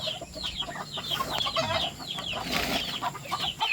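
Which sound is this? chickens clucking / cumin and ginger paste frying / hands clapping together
chickens clucking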